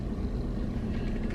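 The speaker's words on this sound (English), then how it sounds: "I'm gonna turn the car around." A car on a road, heard from inside as a steady, low engine and road rumble with no change in pace, ending in a short, sharp click.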